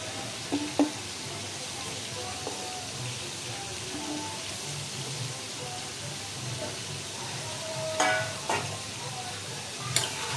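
Okra frying in rohu fish oil, a steady soft sizzle and crackle in a pan with occasional light clinks of a utensil, fairly quiet and continuous.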